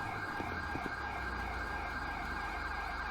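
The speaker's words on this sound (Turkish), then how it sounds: "Ambulans geliyor." Ambulance siren in the GTA 5 video game, a faint, continuous wailing tone heard at a distance over low background rumble, with a couple of soft thumps early on.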